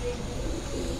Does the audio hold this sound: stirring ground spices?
no